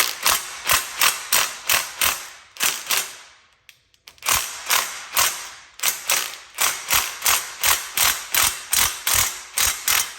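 A ratchet loosens exhaust bolts on a 2005 Porsche 997 Carrera, ringing out close and loud in quick rhythmic bursts of metallic clicks, with a short pause partway through before the clicking resumes.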